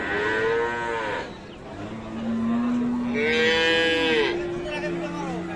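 Friesian cattle lowing at Aftabganj cattle market in Dinajpur, several loud moos in succession, one long call overlapping another, with no talk.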